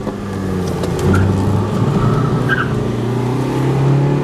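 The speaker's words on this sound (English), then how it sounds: "This is my Polo 2001 GTI, and for you that don't know, this is 125 horsepower." A 2001 Volkswagen Polo GTI with 125 horsepower accelerates on an open road, its engine note rising and droning steadily from inside the car, loud and continuous with no talk.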